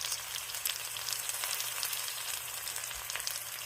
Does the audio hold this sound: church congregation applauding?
no